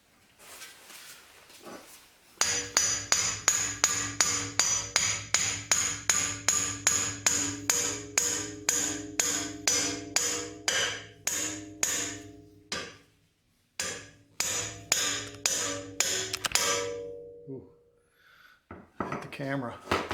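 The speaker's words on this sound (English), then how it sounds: "Sorry about hitting you guys with the hammer" A hammer repeatedly striking a tie rod tuning fork on a Mercedes C300 during tie rod end replacement, sharp metallic clanks in a fast steady rhythm, loud and close, then pausing and resuming in a few short bursts.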